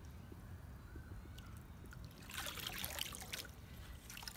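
Water drains from a scoop of muddy debris scraped off the bottom of a garden pond. It sounds like a faint, close trickle and dribble of running water that grows busier midway through, with no talking.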